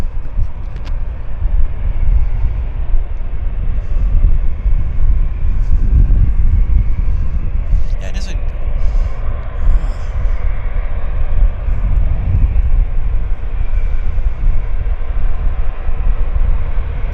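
A WestJet airliner taxis at Vancouver International Airport, its engines making a constant heavy rumble that fills the whole stretch, close and loud, with almost no talk.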